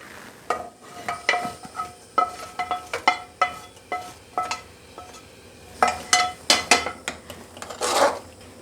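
Spoon scraping and clinking against a pot as sweet Pongal with jaggery, cashews and cardamom is stirred, a series of uneven metallic strokes, close and fairly quiet, with no talk.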